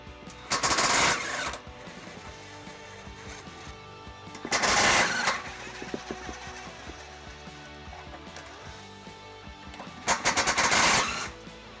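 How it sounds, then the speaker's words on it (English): Deep well sockets spin off trailer hitch bolts on a 2010 Dodge Grand Caravan with an impact tool, three loud rattling bursts about four seconds apart, each about a second long, with quieter shop noise between them. "We'll use the deep well sockets to remove those."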